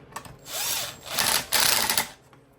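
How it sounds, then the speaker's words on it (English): Power tool whirring in short bursts as bolts are wound into the sump of a Briggs and Stratton V-Twin engine, three close, rising drill runs with brief pauses between them. "So I'm just going to wind these in until they touch."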